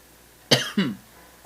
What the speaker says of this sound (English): I'm like coughing on an apple